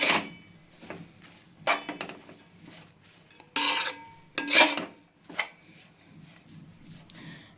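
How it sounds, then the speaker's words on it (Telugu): Grated carrot fries in ghee over a medium flame for carrot halwa, stirred with a utensil that scrapes and clinks against the pan in irregular bursts, some loud and close, between quieter stretches. "మీడియం ఫ్లేమ్లో పెట్టుకొని మంచిగా ఇలా కలుపుతూ బాగా ఫ్రై చేసుకోండి"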